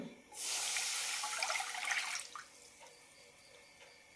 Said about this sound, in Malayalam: പാനിലേക്ക് ഒരു കപ്പ് വെള്ളം ഒഴിക്കാം